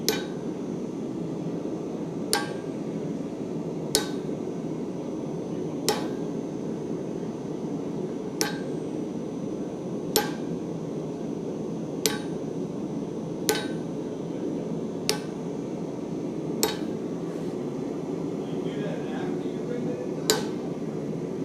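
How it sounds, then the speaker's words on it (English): Hammer tapping a center punch onto a rivet head at a guild meeting, a sparse series of about a dozen sharp metallic clinks spaced a second or two apart over a steady background murmur of a room. "you just basically put a bunch of center punch marks all over your rivet head"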